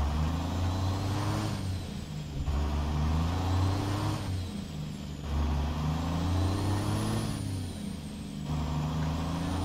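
A 1990s-era Volvo/GM truck in American Truck Simulator, its engine droning loud and steady with repeated rising and falling pitch swells as it shifts, and a hiss of air brakes, close with no talk.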